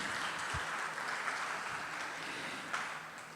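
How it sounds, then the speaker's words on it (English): A room at a business project launch and boot camp fills with a steady wash of applause, moderately quiet and even throughout, with no voices standing out. "give them another round of applause, please"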